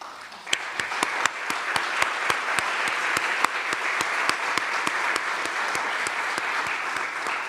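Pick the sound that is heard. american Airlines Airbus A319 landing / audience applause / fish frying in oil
audience applause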